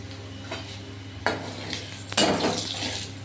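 Panch phoron spices go into very hot oil in a pan, giving a brief clatter and then a rising sizzle with utensil scrapes, set against a steady low hum.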